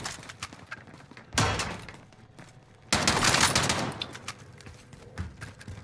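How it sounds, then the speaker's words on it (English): Gunfire in Call of Duty: Modern Warfare, two loud bursts of rapid shooting, the second longer and heavier, over quieter background game noise without any talking. "Who's shooting?"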